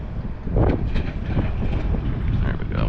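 Wind gusting across an open lake during a fall crappie fishing outing, a steady low roaring rush buffeting the microphone with slight swells, close and fairly loud.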